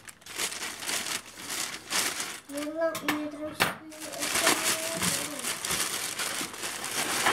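Plastic packaging bag and foam padding are unwrapped from a large parcel, giving close crinkling and rustling bursts with a few sharp clicks and rattles, plus a brief voice in the middle.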